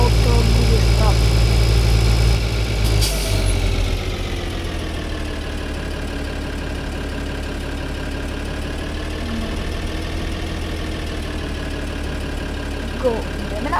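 A tractor engine in Farming Simulator 2013 runs with a steady, droning mid-low hum, louder at first, then settling into a constant idle that continues evenly throughout.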